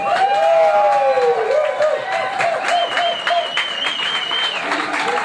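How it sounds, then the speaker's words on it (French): A concert crowd applauds and cheers at an evening show featuring Congolese performers, a dense wash of clapping with whistles and shouts throughout, steady and loud, with musical tones ringing over it. "Est-ce qu'on peut encore applaudir et faites du bruit pour montrer qu'on est là, s'il vous plaît?"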